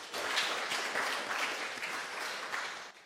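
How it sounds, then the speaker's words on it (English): An audience applauds Lawrence Ferlinghetti on his 100th birthday at his house, a dense, steady wash of clapping at close range that runs throughout and tapers slightly at the end. "let's give a big round of applause for Lawrence"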